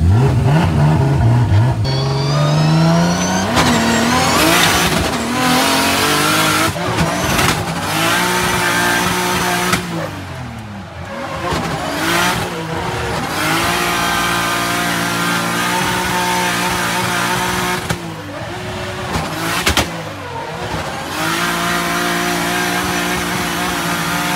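A drift car at La Chapelle du Bard revs hard during a passenger ride, with repeated rising engine sweeps, gear changes and lifts, loud and close from inside the cabin, with no talk.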